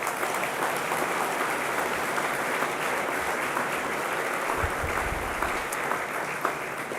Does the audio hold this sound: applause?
yes